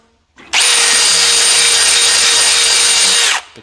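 A power drill bores pilot holes through a golf cart tire for studding, whining loud and steady for about three seconds before cutting off.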